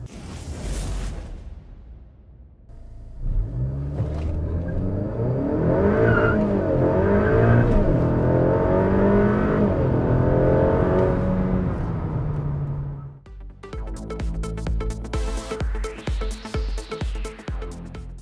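An FK8 Honda Civic Type R with a hybrid turbo upgrade and E30 ethanol tune launches from brake torque with its tires spinning, a loud sustained engine roar that climbs and holds before cutting off, then resumes in rapid pulses.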